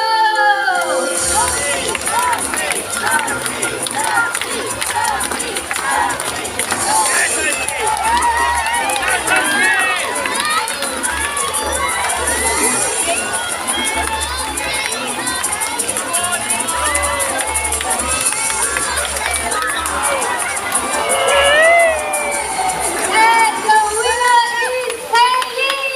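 A crowd of supporters cheers and shouts at a bird show race in a Singapore bird park, a dense, steady roar of voices with children's calls running through the whole stretch.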